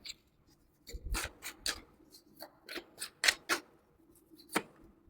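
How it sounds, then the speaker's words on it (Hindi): Tarot cards drawn and laid down during an August Capricorn love reading: a run of soft, papery slides, flicks and light taps spread irregularly across a few seconds, close and quiet, with no talking. "लव लाइफ के लिए यहाँ पर हम थोड़े से कार्ड्स निकालेंगे।"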